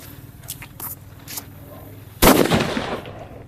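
An atom bomb Diwali firecracker goes off in one sharp, loud blast after a few faint crackles and pops, then rumbles briefly as it fades.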